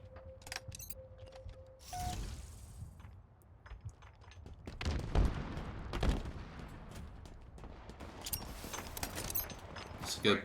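Gunfire in Halo Ranked Slayer on the Pit map, scattered bursts and sharp shots of in-game weapons mixed with game sounds under intermittent talk.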